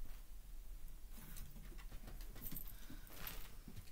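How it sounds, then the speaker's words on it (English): Pigeon cooing outdoors, soft and low with steady background noise and faint bird calls over a few seconds, with no talking. "Archie, leave the fat pigeon alone."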